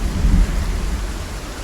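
Thunderstorm with rain in the Project Zomboid video game: a deep, loud rumble of thunder swells and rolls over a steady hiss of rainfall, with no voices.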